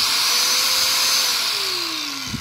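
A Powerhouse angle grinder runs steadily on its own with a high whine, then winds down near the end with a small clunk.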